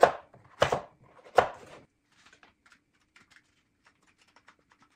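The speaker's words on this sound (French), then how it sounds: "on va venir le détailler en morceaux et on va le râper" Knife chopping potimarron squash into pieces on a board: three loud, distinct thuds close by in the first two seconds, then only faint scattered ticks and small kitchen sounds.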